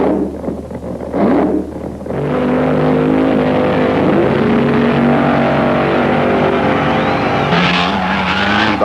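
A Chrysler-powered funny car, the Chi-Town Hustler, makes a 1975 drag racing run with a loud, raw engine roar building to a sustained howl, with tire screech and rising engine tones over the steady blast.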